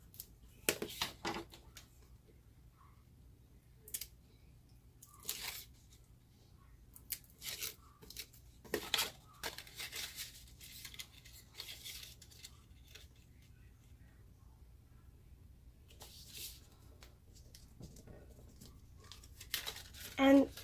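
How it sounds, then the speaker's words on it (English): Strong adhesive tape, the tear-and-tape kind, is torn and pressed along the side of a handmade paper craft: scattered short rips and crinkles come through faintly between quiet gaps. "I'm now going to add some tear and tape along the side. You want to use tear and tape because it's a nice strong adhesive."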